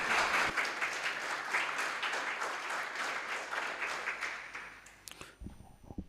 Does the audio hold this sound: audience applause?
yes